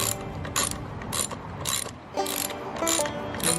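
A ratchet turns as a bar end mirror is screwed onto a 2022 BMW S1000R motorcycle, producing close bursts of rapid clicking separated by short pauses.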